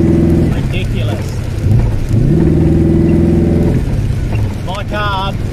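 A 1977 Ford Fairlane running Holley Sniper EFI revs loudly and close, its engine note rising and falling in quick blips over a constant rumble, with someone talking over it.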